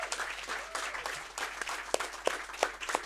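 An audience applauds at the close of the UKSG Green 2024 speedrunning event, a steady wash of clapping with a few sharper nearby claps standing out, no voices over it.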